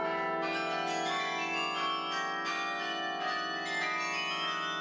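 A 61-bell church carillon rings in France, its many overlapping bell tones sustaining in a dense, continuous wash with repeated fresh strikes, loud and steady throughout with no voices.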